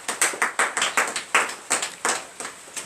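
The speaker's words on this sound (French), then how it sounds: "Donnez l'acclamation à Jésus." Rhythmic group clapping from a church congregation during a morning prayer service in Benin, bursts of claps in a steady beat, fairly close and without talk.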